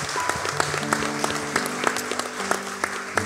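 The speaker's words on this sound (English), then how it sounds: "Could we give a round of applause to the people who prayed that prayer?" Steady applause from a church congregation during a Christmas service, with dense clapping mixed with a few held organ or keyboard tones underneath, fairly close and continuous.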